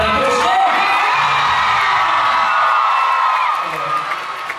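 A loud, close crowd cheers and yells together, with shrill whoops over a steady roar that eases slightly toward the end.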